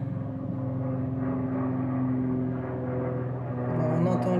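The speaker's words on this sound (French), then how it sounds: "on entend les avions parce que j'habite à côté à 25 km d'une très grande base aérienne militaire" Military airplanes fly over near a large air base, a distant steady droning rumble that swells slightly toward the end, under faint room sound.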